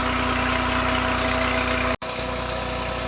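An old-model Massey 240 tractor engine idles with a steady, throbbing diesel chug and a constant hum. The sound drops out abruptly for an instant near the two-second mark, then resumes unchanged.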